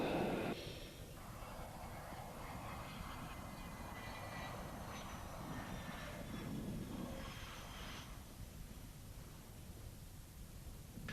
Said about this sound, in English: he brought the flanker in for a perfect deck landing.